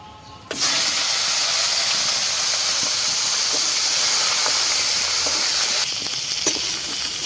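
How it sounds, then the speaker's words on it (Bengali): Jackfruit and potato pieces go into hot oil left from frying fish and set off a sudden loud sizzle that holds steady, then eases slightly near the end, with a few faint clinks. "মাছ ভাজা তেলে ইঁচড়া আলুটাকে ভেজে নিচ্ছি।"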